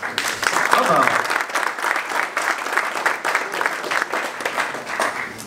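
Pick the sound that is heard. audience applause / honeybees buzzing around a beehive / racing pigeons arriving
audience applause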